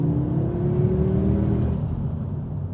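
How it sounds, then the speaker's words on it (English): Turbocharged engine of a Ford Focus RS revving, a steady mid-pitched whir with a tone that rises slightly then settles, fairly close and heard alone without talk. "they've really tuned up the engine noise, not the exhaust, the engine more than anything"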